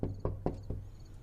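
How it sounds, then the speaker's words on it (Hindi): Four quick knocks on a door in a steady, evenly spaced rhythm, close and moderately loud, with no voices. "कोई दरवाजा खटखटा रहा है।"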